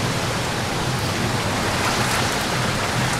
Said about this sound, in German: unfassbar starker Regen. Es peitscht hier überall her an die Fenster